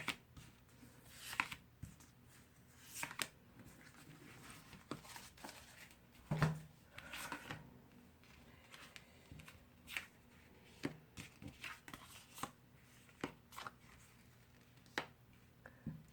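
Tarot cards are handled and drawn from a deck, with faint scattered taps, flicks and papery rustles at irregular intervals over a quiet room and no talking.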